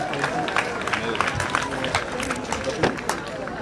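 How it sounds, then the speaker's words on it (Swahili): Students of Maragi High School receive applause at a school event: a crowd claps steadily for several seconds amid general hubbub and voices. "Tupigie wanafunzi wa Maragi High School makofi."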